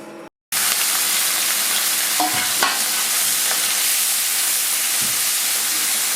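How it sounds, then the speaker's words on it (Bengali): Shrimp coated in salt and turmeric fry in oil in a wok, a loud continuous hiss and sizzle close up, with a few brief clanks and scrapes of stirring and no talking. "এখন নুন হলুদ মেখে মাছটাকে ভেজে নেব কড়াইতে"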